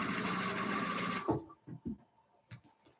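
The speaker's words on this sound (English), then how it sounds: "Line these guys up, sew them together." Sewing machine chain piecing quilt blocks, a fast continuous mechanical whir of stitching close up for over a second, then stopping, followed by a few soft handling thumps and taps.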